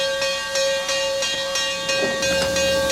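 Former Canadian National steam locomotive 7470 moving out of an old Boston and Maine roundhouse, steam hissing loudly and steadily with rhythmic chuffs and a sustained whistle-like tone, close and continuous.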